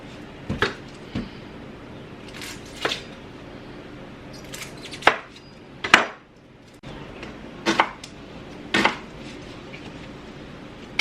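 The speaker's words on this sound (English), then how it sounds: "we're gonna cut up some onion and prepare" A knife chops through onion on a cutting board in a home kitchen, sharp irregular cuts and taps landing in small clusters with short quiet gaps between them, close and crisp.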